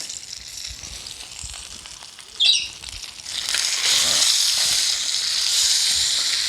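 Steady loud sizzling and hissing of European perch (redfin) frying in a pan, swelling louder after a brief clatter partway through as the fish is flipped, continuous and close.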